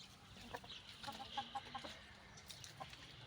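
Faint clucking from chickens and roosters in a coop, a series of short soft calls scattered over a quiet background.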